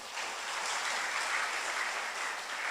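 Audience at the inauguration ceremony of a Buddhist vihara in Riau applauds, a steady, dense roar of many hands clapping, fairly loud and sustained with no speech over it.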